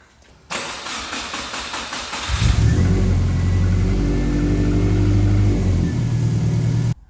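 A Subaru Impreza engine cranks for a couple of seconds with a steady churning starter, then catches and settles into a loud, rumbling idle close by.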